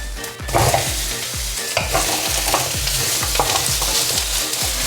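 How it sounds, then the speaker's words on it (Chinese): Rapid, rhythmic scraping of a spatula stir-frying white radish in a hot wok, over a constant loud sizzle of oil. "白萝卜下锅后不要急着加水，先稍微翻炒一下"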